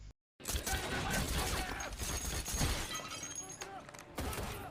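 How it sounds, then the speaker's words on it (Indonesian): Gunfire from a house shootout in the film Mile 22, a dense, loud, continuous barrage of shots and crashing impacts after a brief silent gap at the start, no speech. "para pemilik rumah itu pun dengan cepat memberikan perlawanan dan baku tembak pun terjadi"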